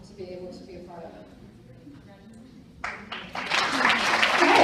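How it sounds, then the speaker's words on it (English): An audience applauds a panel of Avon representatives at a live event, clapping building and swelling after a stretch of speech, growing louder toward the end. "Give another round of applause to our panel."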